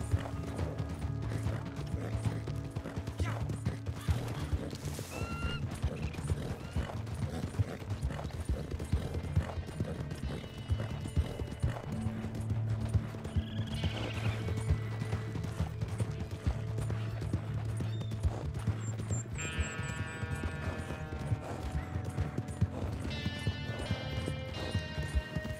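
Horse hooves clip-clop steadily at a trot in Red Dead Redemption 2 while an enemy is dragged behind the horse, with a faint whinny and mechanical rattling over continuous low ambient game sound.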